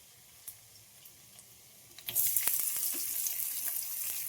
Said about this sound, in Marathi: तेल गरम झालंय, तर लसूण टाकू.